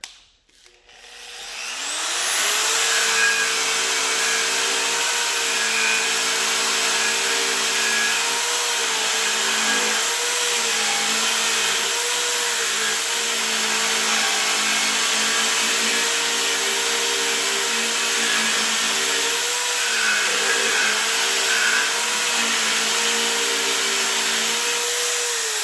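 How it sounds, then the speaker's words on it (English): Wire brush spinning on a power tool, scrubbing rust off a brake caliper bracket: a tool spins up and then runs as a loud, sustained whirring grind with a high whine and slight rhythmic wavering, alone without voices. "I use this wire brush here on the power tool to get that rust build"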